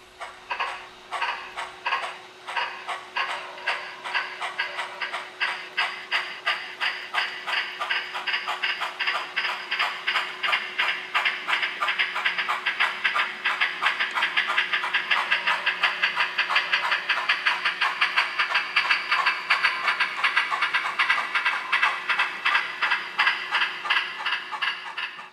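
Steam locomotive 9061, paired with oil-burning Challenger 3709, hauls a train up Sherman Hill, with fast rhythmic exhaust chuffs building into a loud, dense pounding alongside a steady hissing tone.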